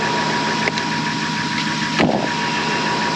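Timberjack skidder engine idling steadily close by, a continuous rumbling drone with a brief clank near the middle, no voices over it.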